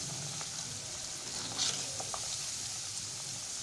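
Accordion-cut potatoes frying in oil over a medium-low flame, a quiet, even sizzle with a few faint pops and a light utensil touch midway, close and without speech.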